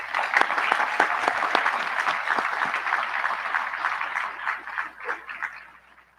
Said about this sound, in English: Please give Amy Makala a round of applause.